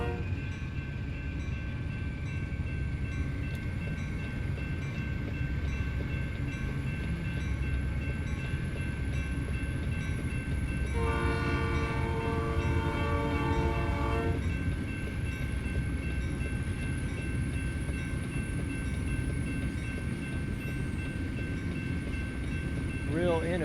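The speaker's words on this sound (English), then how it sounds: "Real inefficient diesel locomotive there." A diesel locomotive in American Truck Simulator sounds a steady multi-tone horn blast lasting a few seconds midway, over a continuous rumble of rolling train cars.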